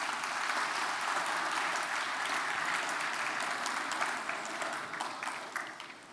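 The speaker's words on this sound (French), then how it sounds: "Et je vous demande s'il vous plaît de les applaudir chaleureusement." An audience at a plenary session of a university event applauds warmly, steady dense clapping from a crowd that holds strong and then begins to fade toward the end.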